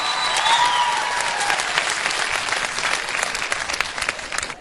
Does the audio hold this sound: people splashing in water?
no